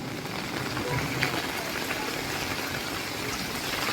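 Dense, steady rain hisses across the whole clip, a broad wash of noise with no breaks, like a heavy downpour drumming on surfaces nearby.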